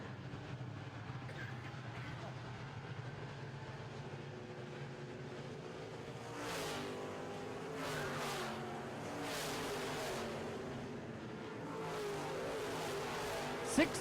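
Midwest modified race cars circle a racetrack, their engines blending into a steady, loud roar with swelling passes and harmonic drone, while a voice carries over the noise.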